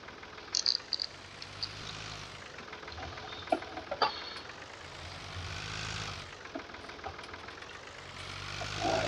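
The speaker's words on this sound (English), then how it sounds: "Let's start the engine." A vehicle engine in a survival video game cranks and runs, a steady droning hum with a few sharp clicks and knocks near the start and middle, continuous and fairly close, with no talking.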